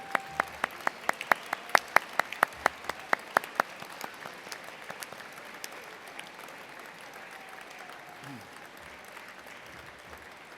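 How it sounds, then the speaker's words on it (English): A graduation ceremony audience applauding, with a few sharp, close claps standing out at first, then settling into dense, steady, fairly distant clapping that continues to the end. "show your thanks with a huge round of applause"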